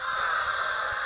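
Repeated harsh crow caws from the video game Brawl Stars ring out steadily over a busy, noisy background, close and fairly loud, with no talking.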